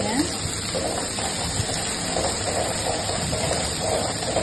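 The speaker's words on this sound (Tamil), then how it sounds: "நல்லா வதக்கிக்கறாங்க நல்லா வதக்கிக்கறாங்க" Fish curry ingredients, cooked by a wedding caterer, sauté in a pan with a loud, steady hiss that fills the whole stretch, while voices murmur faintly underneath.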